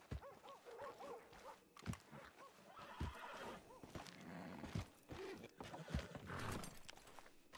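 Horse in a Red Dead roleplay video game neighing and whinnying, with hooves clip-clopping, plus a few sharp knocks and game ambience, fairly close and continuous with no talk.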